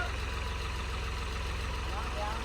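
A farm tractor engine runs steadily with the clutch let out and the throttle raised, a continuous low droning rumble with a close, even steady tone and no clear surges, while people talk over it.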